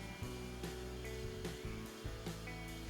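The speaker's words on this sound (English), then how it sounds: "We will also sand this a bit thinner." A motorized sanding tool works a thin copper ring, giving a steady droning whir with low harmonic hum and a soft rhythmic scraping pulse roughly every half second, close and continuous.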